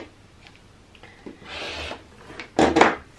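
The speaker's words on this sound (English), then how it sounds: "Tiny bit of trimming needed." Scissors or a rotary cutter trimming a strip of quilt background fabric against a ruler, heard as a few close, short rasping cuts, the loudest burst near the end.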